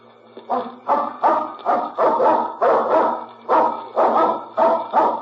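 A dog barks repeatedly in a steady rhythm, about a dozen sharp, loud barks close by with short gaps between them.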